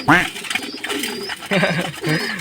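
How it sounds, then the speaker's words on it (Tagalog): Close, busy cooing and warbling of pigeons in a loft aviary, several birds overlapping in a short burst. "grabe, nagkakagulo yung mga ibon natin dito"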